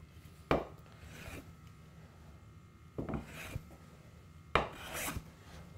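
Hand plane set very fine, taking gossamer-thin wood shavings: three separate short rasping strokes, each a quick sharp onset that trails off into a softer rub, fairly close with quiet gaps between.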